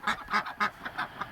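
Ducks quack close by in a quick burst of five or six nasal honking calls, loud and distinct with short gaps between them.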